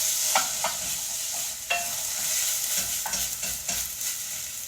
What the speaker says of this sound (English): You want to stir that around.